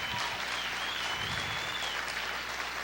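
A church congregation at a Spanish-language conference claps together in a brief burst of applause, a dense, even patter heard from a distance at fairly low volume.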